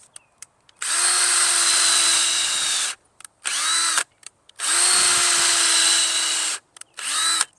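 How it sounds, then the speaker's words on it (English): Power drill driving screws into new wood while repairing an old fence, two long loud whirring runs of about two seconds each, separated by short bursts and brief pauses. "let me drive a couple of screws"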